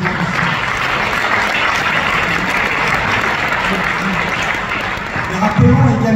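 Sustained applause from a large audience for the CESE president, a dense, even roar of clapping throughout with a slight swell near the end.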